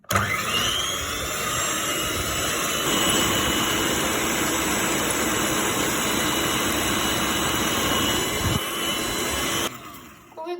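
An electric mixer beats eggs with sugar at medium speed, giving a loud, steady motor whine that runs unbroken for about ten seconds before cutting off near the end.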